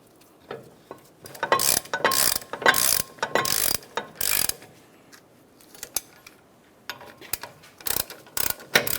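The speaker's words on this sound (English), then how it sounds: "Start each of these in. Once you have them started, snug them up and then torque them to 100 foot-pounds." Close, sharp ratchet clicks come in short bursts with pauses between them as the brake caliper bracket bolts are snugged down on a 1994-2002 Dodge Ram 2500 front brake, with no talking.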